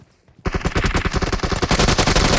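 Automatic rifle fire in PUBG, a dense run of rapid shots that bursts in suddenly after a quiet moment and hammers on loud and close without a break.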